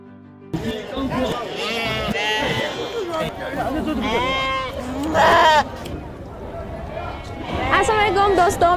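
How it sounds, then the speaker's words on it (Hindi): Sheep bleat repeatedly at a weekly village sheep market in Yinchuan, Ningxia, China, with many overlapping wavering cries close by and crowd chatter beneath. "आप ज़रा देखें, मेरे आसपास इतनी ज़्यादा भेड़ें हैं"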